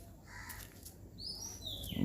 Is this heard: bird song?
yes